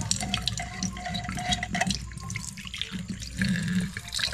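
A weak trickle of water runs from a newly installed tap in a farmhouse, heard as a thin, continuous splash and drip at close range that stays soft and steady, with no speech.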